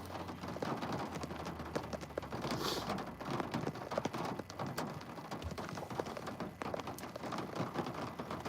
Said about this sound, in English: Now the rain's going away and the sun's coming out.